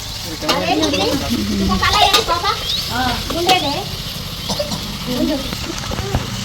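Fish fries in oil over a wood-fire stove at a farmhouse in sugarcane fields, a steady close sizzle under people talking throughout.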